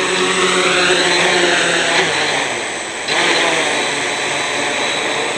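An HK X650F hexacopter drone fitted with new ESCs and a NAZA Lite controller hums loudly and steadily nearby, its motor pitch dipping briefly as it comes in to land.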